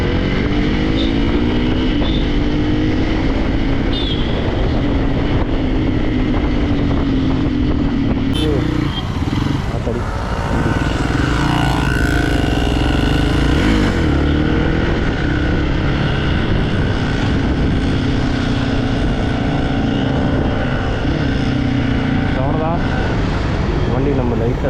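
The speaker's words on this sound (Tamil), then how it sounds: "வண்டியோட எக்ஸாஸ்ட் மட்டும் நம்ம பார்த்துப்போம்" A Hero XPulse motorcycle fitted with a CM titanium full exhaust system gives a loud, continuous engine drone while being ridden, and the revs rise and swell partway through.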